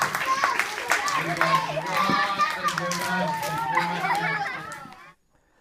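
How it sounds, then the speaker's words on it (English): A group of children clap and cheer after a silly cuckoo clock routine, with busy claps mixed with excited young voices and chatter, then cutting off abruptly near the end. "Give them all a big clapping hand of applause."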